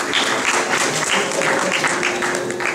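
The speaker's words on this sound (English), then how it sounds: "Please give a big applause for Mr. Dr. Buddha." Audience applause at a sarod concert soirée, a moderate round of clapping with distinct rhythmic hand claps standing out over a steady crowd wash, brief and fairly near.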